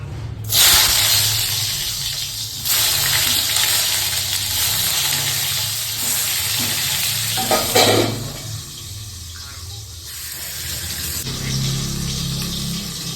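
Eggplant frying in a pan gives a steady, loud sizzle and hiss that runs almost without a break, with a few short sharper bursts and a softer hum beneath.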